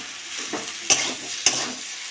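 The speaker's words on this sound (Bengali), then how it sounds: "এটা ভালো করে নেড়ে চেড়ে নেবো।" Potato mixture seasoned with chilli powder, coriander powder and salt is stirred in a frying pan, a steady close sizzle broken by two sharp scraping clinks of the spoon against the pan.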